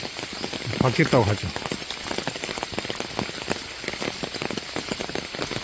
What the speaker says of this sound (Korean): 비가 많이 내립니다.